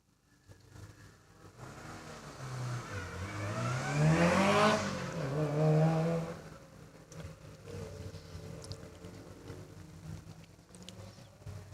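Doug Johnson's Subaru WRX climbs a hillclimb course, engine rising and falling through gear changes as it passes by, loudest in the middle before fading into the distance.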